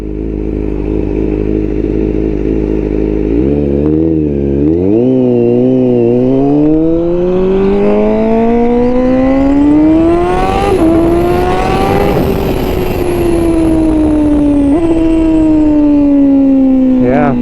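Honda CBR1000RR-R Fireblade SP motorcycle engine, ECU-flashed, rumbles at idle then revs up through rising gear pulls and drops back as it downshifts, loud and close throughout with no talking.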